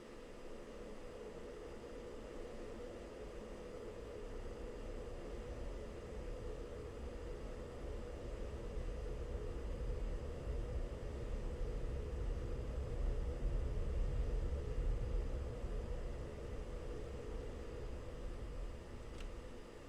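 An F-16 jet engine in Falcon BMS swells into a deep, steady roar during a rolling takeoff, a low rumble and whine that grows louder midway and holds, no talk.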